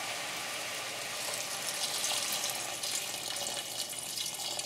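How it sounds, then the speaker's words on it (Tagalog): Water poured slowly from a container into a cooking pot holding chicken for chicken lomi, a steady close splashing rush that stays even throughout with no talk. "dahan-dahan lang yung pagbuhos ng tubig"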